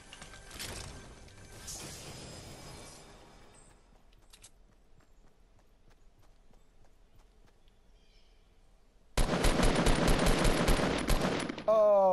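Fortnite gunfire at Dusty Depot opens with rapid bursts, then drops to a quiet stretch of scattered faint clicks, and ends with a loud, dense burst of shots.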